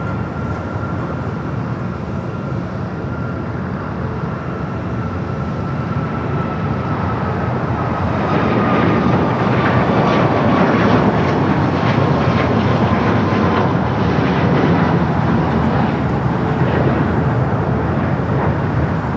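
A Boeing 737 MAX 8 departs LAX bound for Cabo, its engine roar loud and steady, swelling louder about halfway through and holding strong to the end, with no talk over it.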